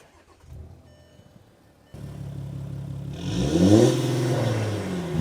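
Volkswagen Touareg V6 TDI with a modified exhaust starts up, then revs repeatedly, the rising and falling engine note growing louder and rougher, close by with no talk.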